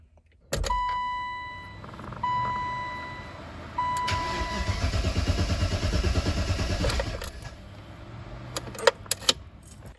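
A BMW 325 project car fitted with a V8 and filled with fresh oil but no coolant is being cranked: a jangle of keys, then a sustained rough churning of the starter turning the engine over for several seconds, close by.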